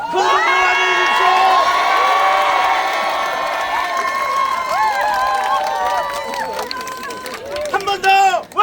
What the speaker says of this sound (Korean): 큰 박수 맞아주십시오